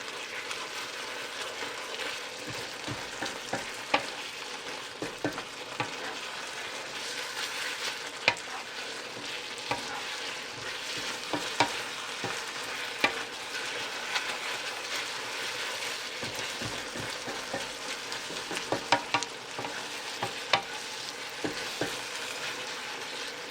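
Sweet and hot pork stir fry coated in a cornstarch-thickened sauce sizzles steadily in a pan, with frequent scraping and clacking as it is stirred, close and continuous with no talking.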